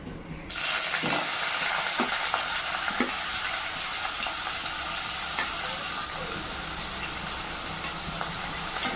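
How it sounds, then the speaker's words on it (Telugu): Spices frying in hot oil in a kadai on the stove: a loud, steady sizzle that bursts in after a half second of quiet and holds for the rest of the clip, with a few faint clinks of stirring. "ఆయిల్ వేసుకొని ముందుగా మసాలా వేసుకుందాం"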